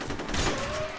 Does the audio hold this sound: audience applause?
no